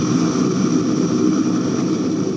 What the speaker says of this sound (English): The massive C-130 Hercules transport plane taxied away from the Air National Guard headquarters in Louisville at 10 this morning